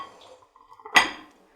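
A plate set down on a kitchen surface, one sharp ceramic clink with a short ringing tail after faint quiet rustling.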